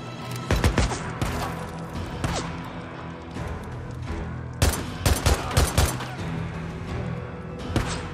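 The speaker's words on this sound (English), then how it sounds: "Where's that shot from?" Gunfire in the video game Days Gone comes as sharp, loud bursts of rapid shots in clusters, some single cracks and some quick volleys, against low background rumble, with no voices.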